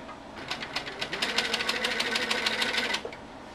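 Sewing machine running steadily as it stitches a quilt border, a fast even needle rhythm lasting about three seconds before stopping, close and clear with no talking.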